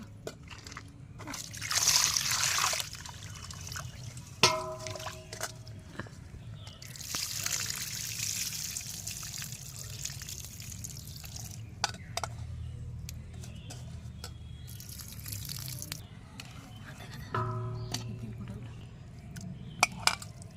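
Fish pieces are rinsed under running water in a kitchen, with bursts of splashing and trickling, occasional clinks of a pot or bowl and quieter gaps between.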